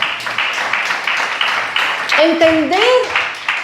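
A church congregation claps loudly at a Sunday service, the sustained rhythmic applause running throughout while a voice speaks over it.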